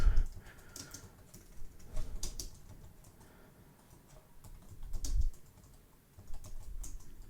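Quick bursts of keystrokes on a computer keyboard, clicking in uneven clusters with short pauses between, close and fairly quiet, no voices.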